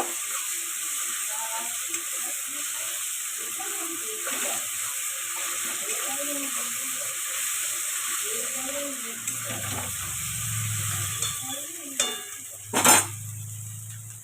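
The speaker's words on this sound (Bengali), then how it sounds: "রসুনটাকে তেলের মধ্যে একটু নাড়াচাড়া করে নেব।" Garlic paste sizzling steadily in hot oil for a mutton dish, with a soft scrape of the spoon now and then and faint voices in the background.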